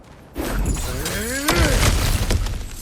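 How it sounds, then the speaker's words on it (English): In God of War Ragnarök, Kratos smashes through an obstacle with a crunching, shattering break and a sharp crack partway through, while a voice speaks over the debris. "back to smashing through things for fun and profit"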